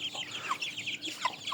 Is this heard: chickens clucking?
yes